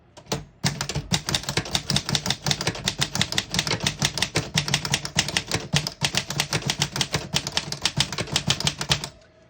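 Rapid keystrokes clatter on a 1942 Remington Remette portable typewriter, a dense, crisp run of mechanical strikes at an even, quick pace, close and loud, lasting nearly ten seconds without talk.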